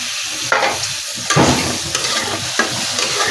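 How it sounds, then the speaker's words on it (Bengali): A ground paste of ginger, onion, garlic, cumin, turmeric, chili and coriander fries loudly in a pan. A steady sizzle is broken by several sharp scraping stirs of a spatula, and nobody speaks. "মশলাটা ভালো করে কষিয়ে দিয়ে দেবো"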